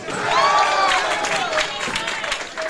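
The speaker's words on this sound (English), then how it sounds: "Little high, give him a round of applause." Audience at a high school bowling match between Brother Martin and Jesuit gives a steady round of clapping mixed with crowd noise and a few voices. The sound holds evenly for about three seconds.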